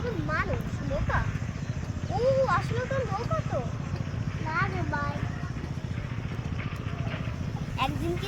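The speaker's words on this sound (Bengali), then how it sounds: "এখানে একটা বোট চলছে জানো এখানে এখনো নৌকা আছে আমি মানে শব্দ হচ্ছে তার মানে নৌকা আছে" A motor boat runs on the water, its engine a steady low throbbing rumble throughout, under a person talking almost continuously.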